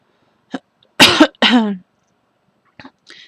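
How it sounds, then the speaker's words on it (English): Several short throat-clearing bursts and a rough cough, close and fairly loud, with brief pauses between them. "I always try to clear my throat before I start these videos"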